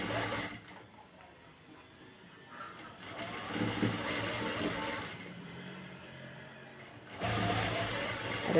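A sewing machine runs along the side seams of a nighty, a moderately quiet continuous whir that shifts in speed and pauses briefly between stretches.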